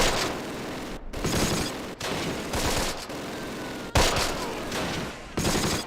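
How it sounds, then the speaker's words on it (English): Heavy battlefield fire from the Close Combat wargame: loud, dense bursts of mortar and gunfire blasts roll continuously over six seconds, with a few sharp breaks between volleys and no voices. "Here come the mortars."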